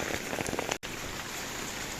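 Heavy late-May downpour falling over a field of sunflowers, a dense, steady hiss of rain close by that cuts out for an instant partway through, then continues unbroken.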